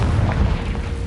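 In a Harry Potter video game, a Confringo spell detonates in a deep, booming burst that fills the short moment with a heavy low rumble and no voices.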